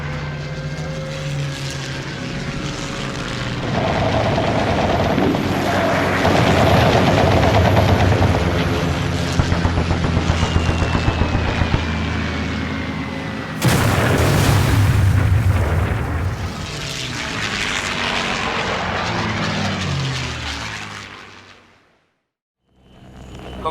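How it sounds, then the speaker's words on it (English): Spitfire aircraft roar overhead in a dogfight above Skegness, engines droning and sweeping past loudly, with bursts of machine-gun fire and a heavy boom midway before the noise cuts to near silence. "There's going to be a dogfight over Skegness."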